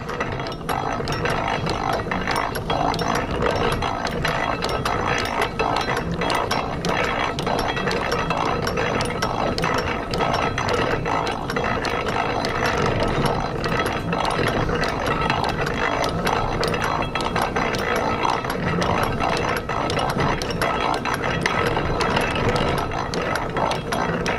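Continuous grinding, rattling drill noise boring through metal while making a blacksmithed J hook, running steadily for the whole stretch, close and loud, with no pauses and no voices.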